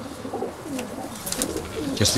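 Racing pigeons coo in low, soft repeated calls, fairly close, with some background rustle and faint other noise.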